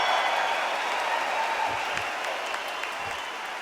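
Arena crowd in the Undisputed boxing video game, a steady wash of cheering and applause held at an even level throughout, with no commentary audible over it.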